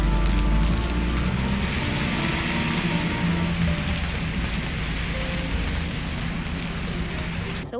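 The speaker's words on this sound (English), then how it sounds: "It's raining today" Steady rain falls on a rainy day, a dense, continuous hiss that stays loud and even throughout, with no voices.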